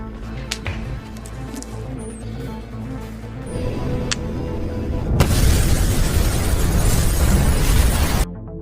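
A large bomb blast in an action film: a few scattered thuds and cracks build up, then a loud roaring explosion bursts in and rumbles on for about three seconds before cutting off sharply.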